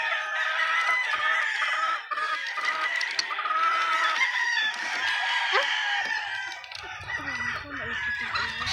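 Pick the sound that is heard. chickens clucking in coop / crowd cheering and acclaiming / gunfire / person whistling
chickens clucking in coop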